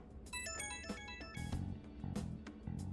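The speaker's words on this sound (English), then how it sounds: "Incoming phone call from Masai Nijima." Phone ringtone from the video game Persona 5 Strikers, a bright melodic electronic jingle with a bouncy bass pattern underneath, loud and alone for a few seconds.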